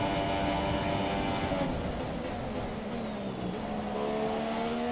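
A Red Bull Formula 1 car engine in F1 2017 at Baku, a continuous high-pitched whine with shifting pitch as revs change, heard steadily against other racing engine noise.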